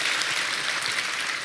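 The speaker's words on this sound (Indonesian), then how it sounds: "Berikan tepuk tangan kita untuk Tuhan kita yang luar biasa." Church congregation clapping in worship, a dense, steady wash of applause that fills the space evenly and stays loud throughout, with no voices standing out.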